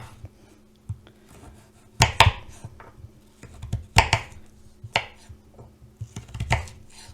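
A knife chops a sweet potato into fries on a cutting board, heavy thuds arriving in small irregular clusters with quieter taps between, close and crisp in a quiet room.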